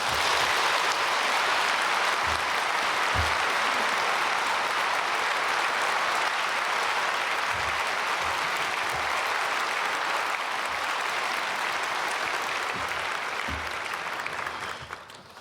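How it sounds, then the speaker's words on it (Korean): A church congregation at a Wednesday prayer service welcomes a visiting pastor with long, steady applause, broad and even throughout, with a few low thumps beneath it, fading out at the end. "박수로 맞이하겠습니다"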